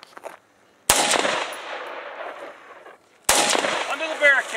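Glock 23C pistol fired during a tactical shooting course, two sharp, loud shots spaced a couple of seconds apart, each followed by a long outdoor echo and rumbling decay.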